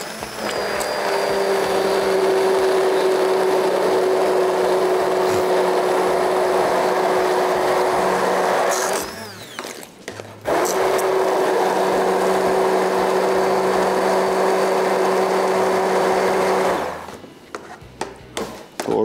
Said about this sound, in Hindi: हैंड ब्लेंडर ले लिया और अपने आप से दूर रख के ऐसे बस